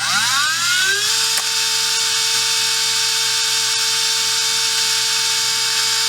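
RC brushless motor spun up on a bench to full RPM while its timing is adjusted: a loud, close, high-pitched electric whine that climbs quickly then holds at a steady constant pitch, with no talk.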